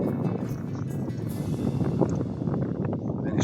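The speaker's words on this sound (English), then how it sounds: "And it's a bit windy as well." Steady, loud wind buffets the microphone beside a tidal creek at Holehaven on Canvey Island, a continuous broadband rush with gusts and no speech throughout.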